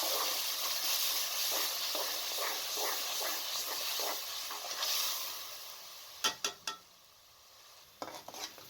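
Ground masala for dal, mixed with ground tomatoes, fries in a pan with a steady close sizzle and hiss, while a spoon stirs and scrapes through it, and a few sharp metallic clinks come near the end.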